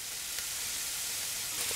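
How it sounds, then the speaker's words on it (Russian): Cabbage dropped into a hot frying pan with onion sizzles in a steady, even hiss for a couple of seconds, close and moderately quiet, with no voices. "капусточку сразу же отправляем в сковородку"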